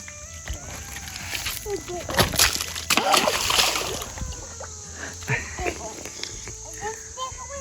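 Objects thrown into water land with repeated splashes and sloshing, several bursts spread across the scene, while people talk and encourage nearby.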